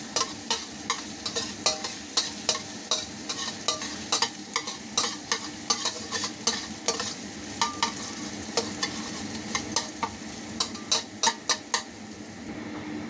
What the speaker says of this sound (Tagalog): lagyan na natin yung ating garlic